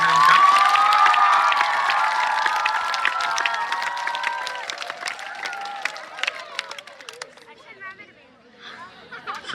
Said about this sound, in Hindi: आपकी जोरदार तालियों के बीच में स्वागत अभिनंदन उनका